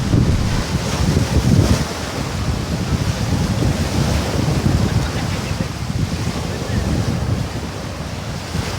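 Sea waves wash steadily against a rocky beach on the Andaman Sea at the Khai Nok Islands, a continuous close surf roar mixed with gusty wind buffeting the microphone, with no talk.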